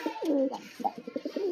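Young pair of pigeons cooing up close, a few short throaty coos and rolling gurgles in quick succession, fairly quiet.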